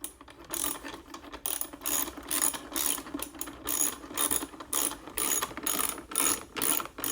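Clamps on a wooden clamping jig for assembling rustic flags being tightened, a series of close ratcheting clicks in short bursts, pausing between turns, with no talking.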